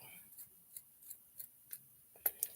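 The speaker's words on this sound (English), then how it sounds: "let me just cut some of these ends off" Scissors trim ends in a quiet room for a craft project, giving a series of crisp, small snips at a steady pace, with a slightly louder cluster of snips at the end.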